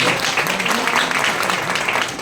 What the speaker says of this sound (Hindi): आप सभी अपने लिए जोरदार तालियां एक बार।